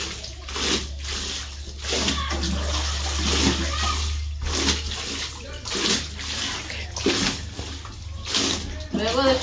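Towels being hand-washed in El Salvador, with water splashing and sloshing continuously as they are scrubbed and rinsed, close and fairly loud, with a steady low hum underneath.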